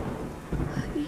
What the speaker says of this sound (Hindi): बिजली की आवाज ने तो जैसे धरती फाड़ दी। हर तरफ बारिश का आतंक मच गया।